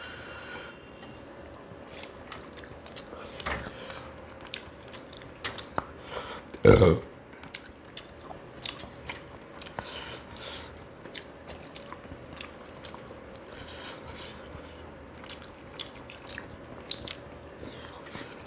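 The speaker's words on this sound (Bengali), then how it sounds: "টুকরো টুকরো কাটাগুলো ফেলি না, চিবি খেয়ে ফেলে দিই" Hilsa fish tail bones being chewed close up during a spicy rice meal, soft repeated crunching and biting with one louder crunch midway, otherwise quiet.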